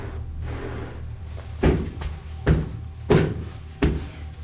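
A sticking door being worked open and shut, several dull thumps and knocks about a second apart with brief scraping between them, close and fairly loud over a low background hum.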